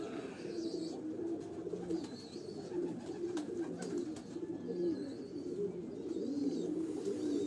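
Pigeons at a fancier's loft in Dharampura, Lahore, cooing in a continuous low rolling chorus, close and steady, with faint chirps above.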